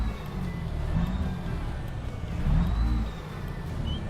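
Truck engine in American Truck Simulator with ProMods, revving in a low, steady rumble that swells briefly mid-clip, mild and fairly quiet with no talk over it.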